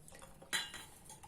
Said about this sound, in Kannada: ಒಂದು ಪಾತ್ರೆಯನ್ನು ತೆಗೆದುಕೊಂಡು